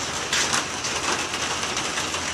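Steady summer rain falls in California, a dense, even hiss of drops spattering on surfaces with no voices, close and continuous.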